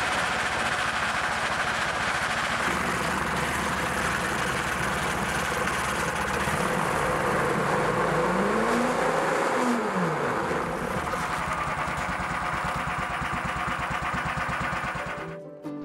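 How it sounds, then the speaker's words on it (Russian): A snowmobile engine runs steadily and loudly close by while the track turns slowly, giving a continuous mechanical drone with a whining pitch that rises and falls midway, and the sound cuts off at the end. "запустим снегоход и медленно прокрутим гусеницу"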